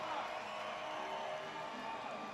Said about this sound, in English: the crowd is absolutely going bananas right now